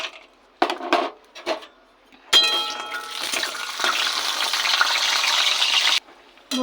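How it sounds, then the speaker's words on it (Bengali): Lentil dumplings (bori) drop into hot oil with a few clinks, then burst into a loud, steady crackling sizzle that continues for several seconds before cutting off. "আগে বড়িটাকে ভেজে নেব।"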